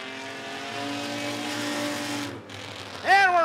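Race cars at Rockford Speedway drone together in a steady engine chorus at the start of a heat race, briefly dipping before a loud rising surge as they accelerate away.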